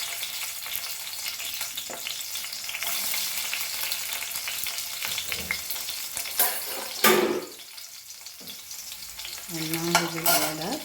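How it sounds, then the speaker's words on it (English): Garlic frying in oil for a tadka for sarson ka saag, a dense crackling sizzle with scraping stirs, briefly dropping quieter near the end before spitting up again, close and alone without talking. "So now I've taken 2 tablespoons of oil now, and we will fry our onion and garlic."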